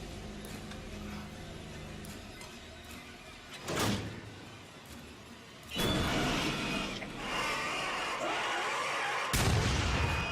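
A shotgun booms at a Wendigo in the Until Dawn video game, with a few sharp, loud blasts breaking through a low, tense ambient background and a heavy burst near the end.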